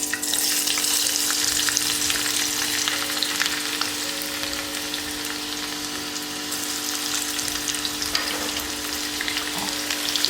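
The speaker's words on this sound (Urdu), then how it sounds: "اب اس میں ہم لہسن کے جو جوئے ہیں باریک بھی کاٹے ہیں وہ ہم اس میں ڈال رہے ہیں جی" Finely chopped garlic cloves fry in cooking oil in a karahi, giving a loud, continuous crackling sizzle with occasional stirring and bubbling, close up and with no talk.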